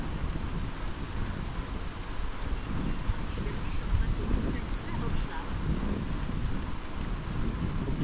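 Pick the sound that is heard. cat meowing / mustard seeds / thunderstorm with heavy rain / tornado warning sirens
thunderstorm with heavy rain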